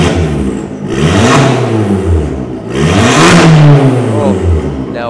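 An Abarth 500 engine revs hard with its exhaust back box opened up, loud and raspy. It rises and falls in two big surges with a burbling idle between them, heard up close.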